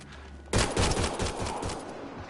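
Burst of video game gunfire in a sci-fi shooter on PS4, a sudden loud volley of rapid shots that begins after a half-second lull and rattles on without a break.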